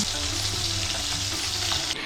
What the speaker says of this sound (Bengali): সরপুটি মাছ ভাজা